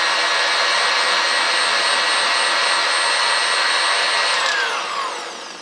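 An electric meat grinder runs at a loud, steady whine while grinding seasoned breakfast sausage, close and continuous, then spinning down slightly at the end.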